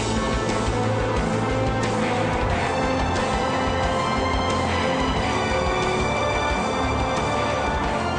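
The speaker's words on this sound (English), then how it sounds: "They run the car up to maximum speed." A car runs at maximum speed during a noise test in an acoustically treated test room, giving a loud, continuous, steady drone of engine and tire roar with no voices.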